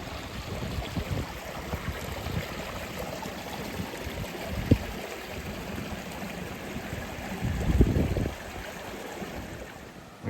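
The River Kinder below Kinder Downfall flows steadily as a broadband wash of moving water, with a couple of brief louder splashes or bumps partway through and no talking.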